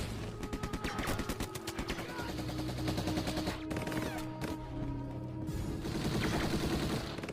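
German machine gun fire rattles in rapid bursts during a World War II battle scene between Red Army and Waffen SS troops, layered with dense battle noise and a tonal film score.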